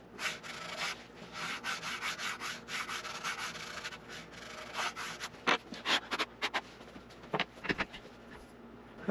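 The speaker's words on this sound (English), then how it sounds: "Just take a little sanding block with 220 grit." A 220 grit sanding block scuff-sands a guitar fretboard in quick back-and-forth strokes, close and dry, with irregular rasping bursts that grow sharper and more spaced toward the end.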